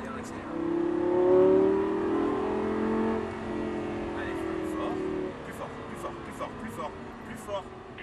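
A Lamborghini Gallardo on the Paul Ricard circuit, engine revving up loudly, holding, then dropping away as the car slows, heard from inside the cabin with an instructor speaking over it.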